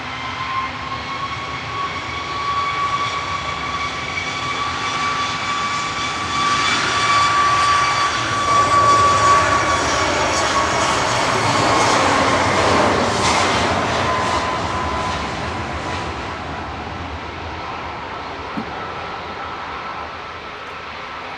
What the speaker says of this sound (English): Ryanair 3206 to Rome Ciampiano, departing EIHGZ Max 8.